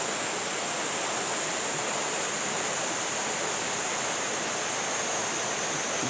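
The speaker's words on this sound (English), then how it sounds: "This whole wall is just dripping." Water dripping and seeping down a mountain rock wall in Japan, a steady close hiss of trickling water with no distinct drops and no talk.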